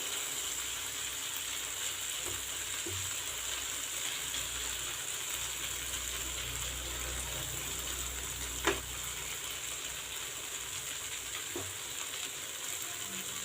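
Masala omelette mixture frying on a hot tawa, giving a steady, faint sizzle throughout with a few soft scraping clicks from the spatula.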